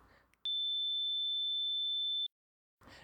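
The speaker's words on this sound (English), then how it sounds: "it sounds like a pure sine wave" A steady pure sine tone generated in FL Studio holds alone at one pitch for about two seconds, starting and stopping abruptly between brief bits of talk.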